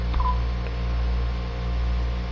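Dialing tones from a cordless phone keypad as a number is typed on a 1963 Western Electric 554 wall-mount telephone handset, a brief tone near the start and a faint second one, heard alone over a steady low electrical hum.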